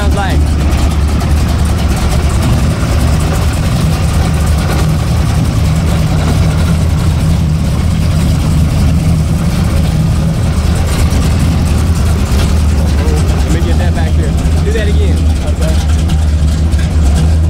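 A 1000-plus horsepower pro street truck engine idles with a loud, deep, steady rumble that runs on throughout, a lumpy low throb filling the whole stretch.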